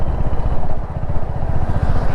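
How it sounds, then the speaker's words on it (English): A 2022 Royal Enfield Hunter 350 ridden slowly in fifth gear, its new engine giving a loud, steady low thumping beat close to the microphone, with no voices over it. "Let's try it slowly now and feel the thump of this new engine."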